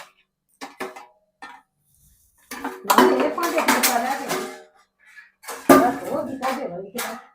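Metal utensils clank and clatter in bursts as they are handed over and handled, close by, with quiet gaps between the clusters of clinks.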